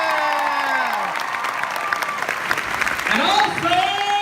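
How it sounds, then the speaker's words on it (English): Audience applause from a crowd at a lively Valentine's Day event, steady clapping filling the room with some cheering while a voice speaks briefly over it. "Big round of applause for our signers"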